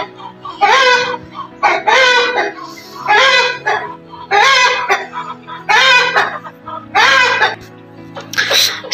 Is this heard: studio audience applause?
no